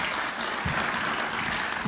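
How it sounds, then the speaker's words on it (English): A short burst of steady crowd applause for a governor at a Kenyan presidential event, a dense wash of many hands clapping at once. "Please, let's clap for the Governor."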